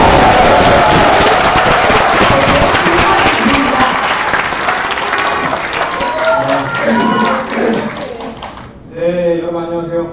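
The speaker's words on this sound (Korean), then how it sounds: "우리 박수 한번 주세요." A forum audience at a national assembly bursts into loud, dense applause that gradually thins out, followed by voices and a speaker starting to talk at the end.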